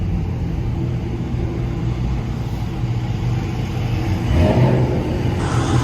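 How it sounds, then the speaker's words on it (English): A Jeep Trackhawk's exhaust rumbles low and continuous during a late-night city drive, swelling louder toward the end as the engine pulls harder, heard from inside the vehicle. "Y'all hear that exhaust though?"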